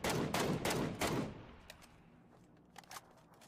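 Gunfire in the video game PUBG: a quick burst of three or four loud shots in the first second and a half, then quieter ambient game noise with a couple of faint distant cracks near the end.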